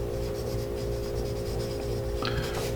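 Short gritty scratches from a blunt-tipped carpenter pencil dragging over a surface, faint against a constant low hum, with a slightly sharper stroke at the end.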